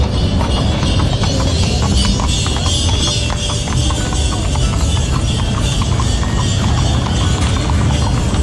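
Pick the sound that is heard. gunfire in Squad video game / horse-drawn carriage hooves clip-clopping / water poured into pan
horse-drawn carriage hooves clip-clopping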